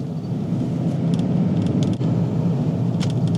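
Steady low rumble of a car driving along a road, heard from inside, continuous and fairly loud with faint high clicks and rattles on top.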